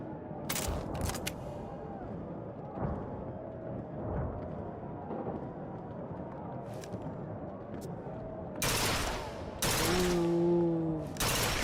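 A .30 carbine rifle fires in Bioshock Infinite, with quick sharp cracks early on and a denser cluster of loud shots near the end. Someone talks at length in between, and a tonal beep sounds near the end.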